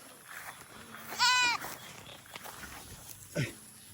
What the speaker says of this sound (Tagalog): Sisilong natin yung mga kambing